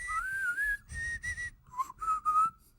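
A person whistles a short broken tune in several bursts, close and clear, with brief pauses between notes.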